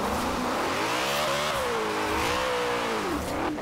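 A BMW i8 hybrid drifting in the video game Forza Horizon 4 revs loudly and continuously, its engine pitch rising and falling in sweeps as it slides, with no talking.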